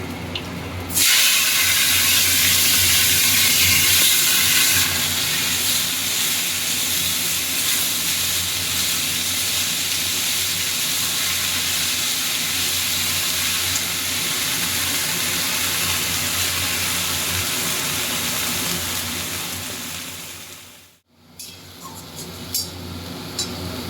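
Fish dropped into hot oil with black cumin seeds sizzles loudly in a sustained, steady hiss, close and alone, cutting off abruptly near the end.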